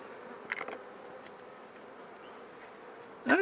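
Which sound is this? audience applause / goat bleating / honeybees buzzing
honeybees buzzing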